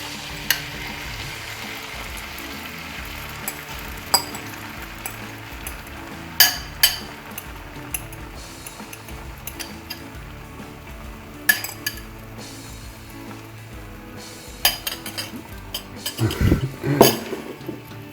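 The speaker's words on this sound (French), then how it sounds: "maintenant, je vais verser le mélange" Egg and bacon omelette mixture poured into a buttered frying pan, with faint sizzling under scattered clinks of utensils and pan knocks, growing busier near the end.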